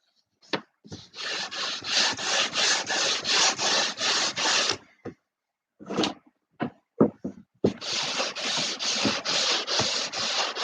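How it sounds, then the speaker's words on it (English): Hand sanding of a wooden turtledeck on a Sig Kougar model aircraft with sandpaper, heard as rhythmic back-and-forth scratchy strokes in two long runs broken by a pause with a few isolated rubs, close and fairly loud, with no talking. "A little bit lighter grit sandpaper on this one."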